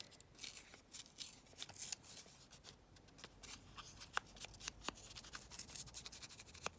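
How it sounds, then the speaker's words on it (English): A paper page is torn from a book in a string of short ripping strokes and papery rustles, close by and quiet, with brief pauses between tears. "let's just tear this one out"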